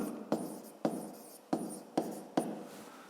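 Pen strokes writing numbers by hand on paper, five quiet, evenly spaced scratchy taps close up with no talk.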